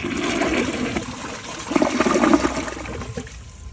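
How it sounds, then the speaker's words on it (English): A Glacier Bay dual flush toilet flushes on its low-water setting, a close rushing swirl of water that swells midway and then thins into a trickle as the bowl drains. "let's give it a flush with less water"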